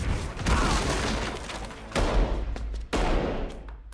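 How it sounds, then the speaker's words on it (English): Bursts of gunfire from a Marvel Secret Invasion episode sound in loud volleys with booming impacts, about three distinct bursts within a few seconds. "they still died of gunfire"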